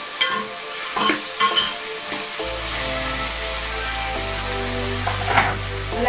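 Spice paste of ginger and cloves stirred and frying in oil in a pan for vegetable rice, a steady close sizzle with scraping spoon strokes, alone with no voices.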